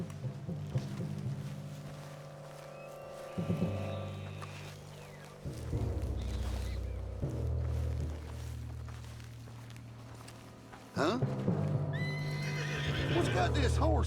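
A spooked horse in the video game Red Dead Redemption 2 neighs and whinnies several times, mixed with hoof clip-clop and game ambience, with voices talking at intervals throughout.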